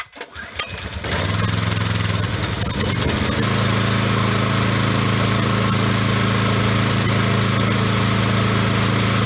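A portable generator engine is started for the first time with the choke on, sputtering briefly before catching and settling into a loud, steady running drone that continues without talk.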